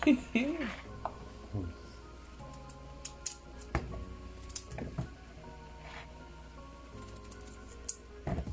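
Potatoes and carrots being cut for Jamaican pumpkin chicken soup in a kitchen, with sharp intermittent knife chops and clicks, irregular and close, while people talk faintly in the background.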